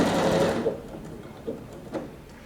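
A bernette b37 sewing machine stitching fabric, a steady mechanical whir that starts loud and then slows and quiets, with a couple of soft clicks as it stops.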